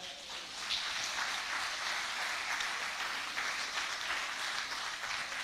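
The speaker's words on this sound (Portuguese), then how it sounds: "Só aqueles que vão morar no céu aplaudam ao Senhor." A church congregation applauds during an evening worship service, a dense, even spread of clapping that continues at a moderate level.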